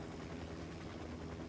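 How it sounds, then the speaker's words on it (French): A small helicopter takes off in the Ghost Recon Wildlands video game, a faint, steady rotor chop with a low engine hum throughout the short stretch. "Et Poulpeau, il va prendre son petit hélicoptère."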